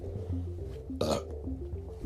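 A single short burp erupts midway, loud and close, breaking up steady background music that runs underneath throughout.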